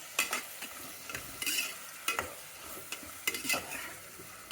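Whole spices fry in a pan for bagara rice, stirred with a utensil that scrapes and clinks in irregular bursts over a soft, low sizzle, heard close up without talk.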